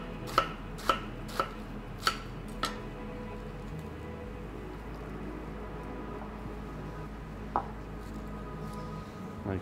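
A knife chopping crisp, fresh lettuce on a board for a Welsh lamb shawarma garnish: a quick run of sharp, close thuds, then a pause and one last cut over a low, steady background hum.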